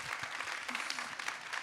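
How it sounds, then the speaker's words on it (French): Audience applause at a forum: a short burst of brisk, dense clapping, moderately loud and close, holding steady throughout with no clear speech. "Merci de l'applaudir."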